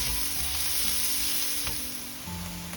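Onions frying in a pan for paneer butter masala, cooking toward light brown, give a steady close sizzle with a brief stir partway through and no talking.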